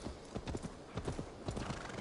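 Horse hooves clip-clop in a steady rhythm close by, set in the video game Assassin's Creed Valhalla, with a loud, continuous gallop running throughout.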